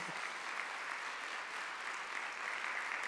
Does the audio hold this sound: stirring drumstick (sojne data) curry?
no